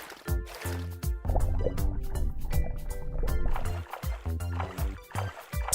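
Water splashes and sloshes as a swimmer pushes it backward with the hands, with bursts of choppy splashing and dripping in an uneven rhythm, close and fairly loud, mixed with musical tones.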